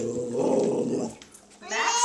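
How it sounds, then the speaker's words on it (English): A big dog gives a low, growly vocalization that fades out, followed by a short higher-pitched sound near the end, close by and moderately loud. "Yeah, that's a big doggy."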